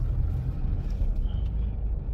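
Steady low engine rumble of a car driving slowly through a parking area in search of a free space, a continuous close drone with no talking.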